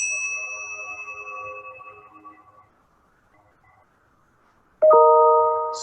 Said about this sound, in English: I'm going to ring a bell right now